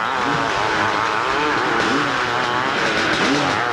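A hillclimb motorcycle fitted with a non-directional motocross tire races uphill at an AMA hillclimb event in Monson, MA. Its engine screams at full throttle, loud and steady throughout, the pitch rising and wavering as it climbs.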